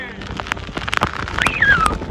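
Rain falls on a drought-stricken cattle farm, a patter of scattered drops and splashes with a brief whistling tone partway through.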